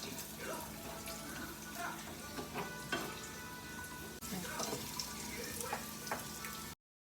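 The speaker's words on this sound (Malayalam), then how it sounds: "ഇനി ഇതിലേക്ക് നമ്മൾ നെയ്ക്കകത്ത് കുറച്ച് കാഷ്യൂസ് ആൻഡ് റൈസൻസ് ഫ്രൈ ചെയ്ത് ആഡ് ചെയ്യാൻ പോവാണ്" Cashews and raisins fry in ghee for Kerala aval vilayichathu, giving a steady sizzle and crackle with occasional clinks of a spoon stirring in the pan, close and moderately quiet.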